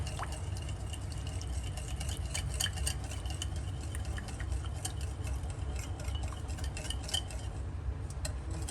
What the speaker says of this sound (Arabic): الزبده برضو معاهم كله مع بعض. نقلب كله.